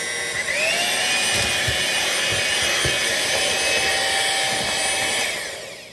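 An electric mixer beats cake batter for an upside-down pineapple cake, a steady whirring motor with a rising pitch as it speeds up, occasional bumps against the bowl, running alone until it winds down at the end.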